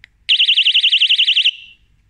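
A Rockbros electric bicycle bell sounds one loud, shrill warbling electronic tone that rapidly wavers up and down for about a second, then fades quickly, heard alone and close up.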